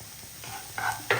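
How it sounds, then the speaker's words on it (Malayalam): Curry with carrot stirred in a pan: two quick scraping strokes over a faint sizzle, close by and brief. "ഇന്ന് ഇളക്കി കൊടുക്കാം."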